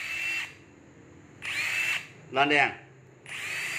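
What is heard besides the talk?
Hitachi 18V brushless hammer drill being test-run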